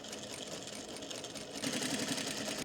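A sewing machine runs steadily while stitching a waistband on a workwear garment, a continuous close whirring hum that grows slightly louder and faster near the end, with no talking.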